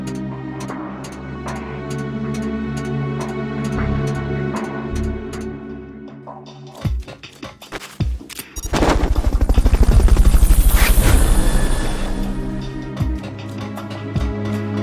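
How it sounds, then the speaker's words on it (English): A Fulton recovery helicopter in the video game Metal Gear Solid: Peace Walker, with a loud, steady rotor chop and engine roar that builds to a peak, preceded by game music and scattered sharp effects. "Fulton recovery subject confirmed onboard helicopter"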